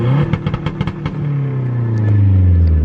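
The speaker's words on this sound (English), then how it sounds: "If you lightly hold the throttle, it's like a soft limiter." A turbocharged car engine revving hard against a soft rev limiter, the note stuttering and bouncing at high revs before holding a loud, steady drone that slowly sags, close up with no talking.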